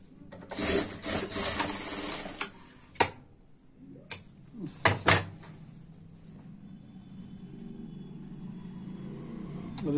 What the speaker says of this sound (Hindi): इसके साथ साथ एक सिलाई लगा देंगे जैसे पहले लगी हुई है, उसी से अटैच कर देंगे।